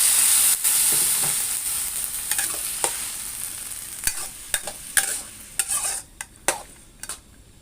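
Snake gourd and egg are stir-fried in a pan, a bright hiss that gradually fades while a utensil scrapes and clacks against the pan in sharp, irregular strokes.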